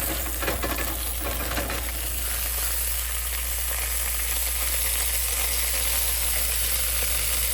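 Steady broadband sizzling of beef liver frying in a hot pan, a constant crackling hiss with faint pops throughout, close and moderately loud, no talking.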